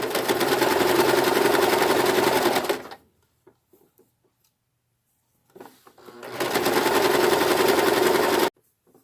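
A sewing machine stitches elastic onto a swimsuit in two long, steady, loud runs with a quiet pause of faint fabric handling between them.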